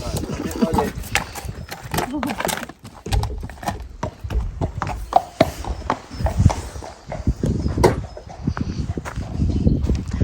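A horse's hooves clomping as it steps out of a trailer, irregular hollow thuds and scrapes close by, with someone talking over much of it.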